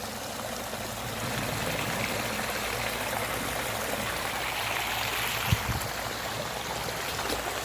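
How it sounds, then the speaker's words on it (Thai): Floodwater from heavy overnight rain flows steadily into an eggplant field and overflows from a pond along its edge, a continuous broadband rushing and trickling with one brief knock near the end, no voices. "ตอนนี้ก็น้ำไหลหลากมาเข้า แปลงมะเขือยาวแล้วค่ะ"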